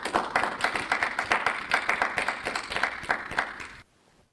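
Applause for parents, spouses, family and friends at a university commencement ceremony: a dense, steady round of clapping from an audience, fairly close and even, lasting nearly four seconds before stopping abruptly.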